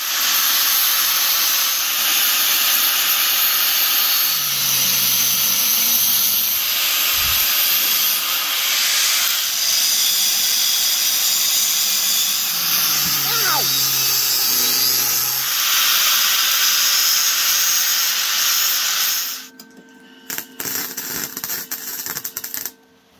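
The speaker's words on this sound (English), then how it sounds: "I'll weld that next to it so I can get the magnet pen down inside to pull the valve up." Steady, loud crackling hiss of an arc welding steel for a homemade valve spring compressor, running unbroken for about nineteen seconds before cutting off to quieter clanks.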